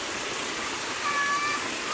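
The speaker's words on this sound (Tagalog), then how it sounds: "Ang lakas guys ng ulan." Heavy rain falls in a steady hiss on surfaces, a dense continuous wash at moderate level with a brief faint squeak partway through.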